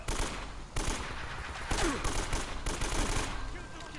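Gunfire in the video game Uncharted: Drake's Fortune, with repeated sharp shots and bursts of rapid fire from an enemy firefight over several seconds.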